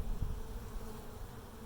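Low, steady buzzing of many bees inside a hive, faint and close, with a soft continuous drone.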